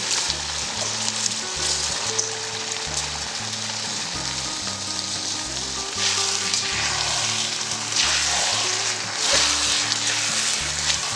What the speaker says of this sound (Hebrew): אנחנו מוסיפים אורז, כאן רותח ממש ומבעבע כמו שצריך.